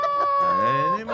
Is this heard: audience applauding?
no